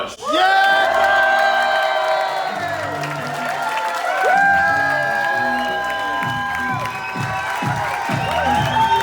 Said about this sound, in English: A big round of applause for our very own Dave Bush.